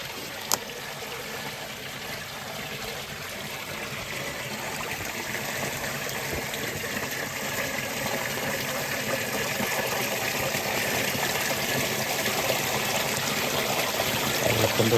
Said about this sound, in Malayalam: വെള്ളത്തിൻ്റെ ഒരു സൗണ്ട് കേട്ടോ,